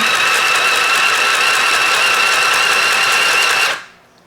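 A Singer Stitch Sew Quick 2 sewing machine runs in a steady, close, continuous mechanical whir with a high whine, stitching fabric for a rag doll, then stops abruptly near the end.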